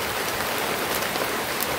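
Steady rain falling on a surface outdoors, a dense continuous hiss of drops with no talk, even and close throughout.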